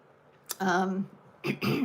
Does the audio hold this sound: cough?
yes